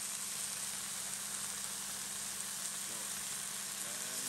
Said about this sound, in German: Man muss sie minimal 6 Minuten braten.